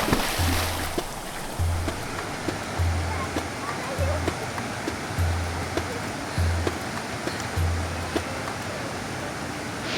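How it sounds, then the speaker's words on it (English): Constant roar of rushing water from the Ouzoud waterfalls in Morocco, with a low intermittent rumble pulsing underneath. "Those were the Ouzoud waterfalls."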